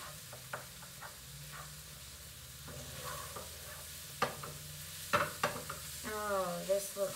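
Chopped egg is stirred into cauliflower fried rice in a pan, with a soft, steady sizzle under scattered scrapes and knocks of the utensil against the pan, close by and fairly quiet.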